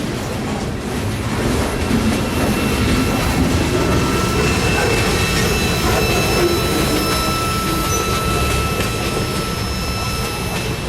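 Norfolk Southern freight train rerouted over the Georgia Central Railway, rolling past as a dense continuous rumble and rail roar with faint wheel squeal tones, loud and close.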